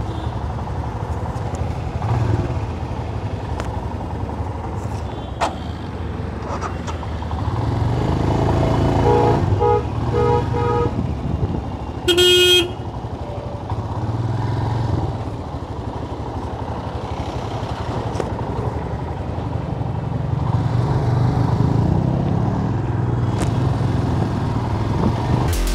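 Motorcycles and cars crawl through a heavy daily traffic jam, engines rumbling steadily. Several short horn toots stand out, with one sharper, louder honk about halfway through.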